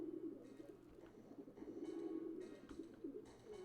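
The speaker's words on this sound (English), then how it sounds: "This carrier frequency pigeon possesses top secret information." A carrier pigeon in the video game Jazzpunk coos softly and steadily in low, rolling murmurs, faint and continuous, with no voices present.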